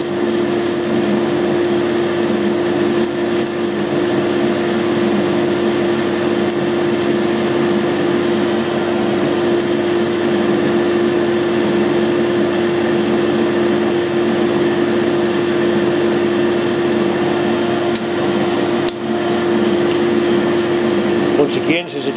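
A metal lathe parting off hard steel with a cheap parting tool under oil feed, giving a steady loud whine and hum with a strong sustained tone throughout, close up and continuous.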